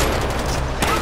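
Dense, continuous gunfire in the video game Far Cry 4, a loud, unbroken barrage of shots packed tightly together in one brief burst.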